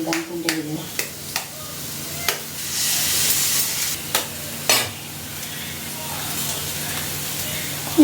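Onions sauté in a home kitchen pan, with a soft steady sizzle, a few sharp taps of a spoon against the pan and a brief louder hiss of stirring in the middle; faint talk is heard early on.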